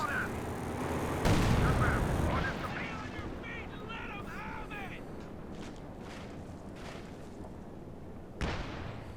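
High-explosive artillery barrage in Company of Heroes 2 lands as a heavy burst of booming impacts, then rumbling decays while game sounds and a voice murmur continue, with another thump near the end.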